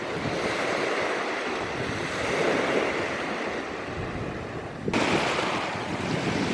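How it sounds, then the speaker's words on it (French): Ocean waves break against rocks along the shore, a continuous loud wash of surf with heavy wind buffeting the microphone. A fresh surge swells near the end, and nobody speaks. "est-ce qu'on peut se lasser d'entendre la vague?"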